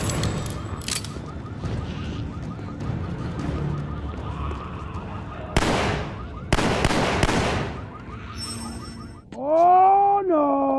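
Gunshots ring out from a shooter in The Walking Dead: Survival Instinct, a few sharp loud cracks in close succession near the middle, followed by a rising wailing tone at the end.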